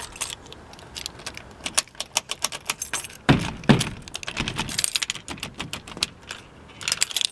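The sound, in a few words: key jangling in door lock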